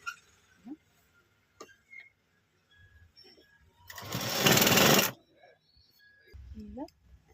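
A tailoring sewing machine stitches a folded hem strip on fabric in one loud steady whirring run of about a second, with quiet handling noises and soft voice sounds before and after.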